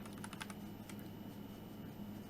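Quick clicks of a computer keyboard being typed on, a brief cluster of light keystrokes near the start, then sparse taps against quiet room hum.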